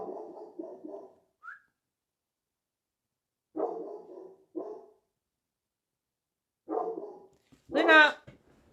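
Several short bursts of dog barking, near and loud, separated by pauses, ending in a higher yelping bark.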